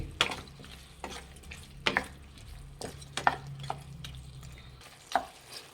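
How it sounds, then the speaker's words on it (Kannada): A spatula stirs capsicum chicken pepper fry in a hot pan just after salt goes in, giving soft scraping strokes at a steady rhythm over a faint sizzle, up close with no talking. "ಫ್ರೆಂಡ್ಸ್, ಉಪ್ಪು ಹಾಕಿದ ಮೇಲೆ ಮಿಕ್ಸ್ ಮಾಡಿ."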